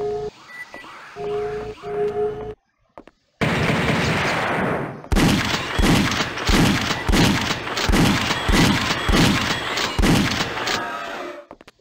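Rapid, loud bursts of machine gun fire from the PlayStation game Alien Trilogy, a steady hammering rhythm of shots after a quieter opening with tonal game sounds.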